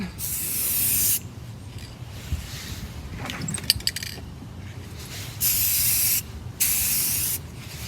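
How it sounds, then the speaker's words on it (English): Bursts of spray paint hiss from a can onto furniture, close and steady, start and stop several times, with a faint metallic clink between them; no one talks. "So as you get to the end, you take your can and you pick it up"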